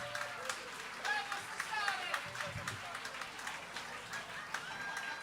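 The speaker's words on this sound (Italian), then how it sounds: "Un applauso a tutti gli artisti." At a benefit concert, an audience claps for the performing artists in a moderate, scattered burst of applause with irregular peaks, heard at some distance with a faint murmur of voices beneath.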